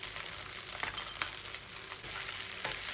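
Rice is stir-fried with garlic, onion, balsamic vinegar and vegetables in a hot pan, giving a steady, crackling sizzle broken by soft scrapes and clicks from stirring, close by and with no voices.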